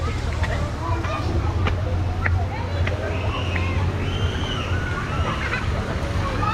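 Water sloshing and flowing steadily in a small residential swimming pool with filtration, a continuous wet wash with light splashes under a low hum and faint background chatter.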